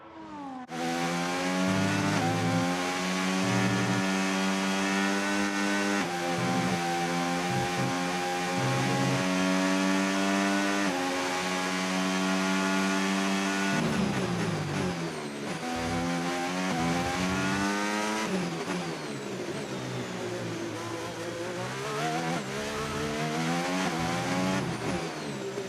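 Formula 1 car lapping the Mexican GP circuit in F1 25 practice, a loud, continuous engine whine rising and falling through gear changes, sustained close for the whole stretch with no talk.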